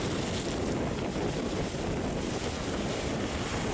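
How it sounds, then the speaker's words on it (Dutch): Water sloshing against a south pier at the sea, a continuous rushing wash heavily mixed with buffeting wind noise on the microphone, with no pauses. "Het water klotst hier tegen de zuidpier op."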